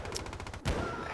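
Gunfire from an MP5 submachine gun in a first-person shooter, a single loud burst of shots near the end after a stretch of rapid, even pulses, clear and close.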